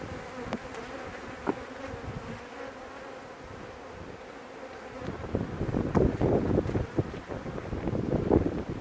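Honey bees buzz around an open, overcrowded hive as it is being split, a steady droning swarm close to the microphone, with wind buffeting and louder gusts of buzzing toward the end.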